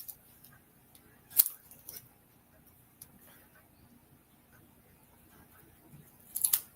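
Paper is snipped with scissors during card making, giving two or three short, crisp cuts spaced a few seconds apart, fairly faint against a quiet room.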